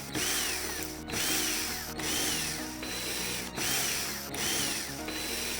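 Power screwdriver backing screws out of the rear panel of a VU 43UT LED TV during a no-picture repair: steady loud motor whine and ratcheting buzz, briefly interrupted about once a second as each screw is driven out, with no talk.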